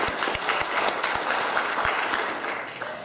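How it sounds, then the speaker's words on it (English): Audience applause at a public forum, a steady burst of many hands clapping close by that fades slightly toward the end. "I think he deserves a round of applause for that."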